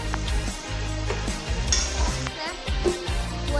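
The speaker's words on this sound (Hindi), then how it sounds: "अब इसको फ्राई करेंगे हम लोग।" Turmeric masala sizzles and fries in a pan, a steady close crackle with rhythmic scraping strokes of a spatula stirring through it.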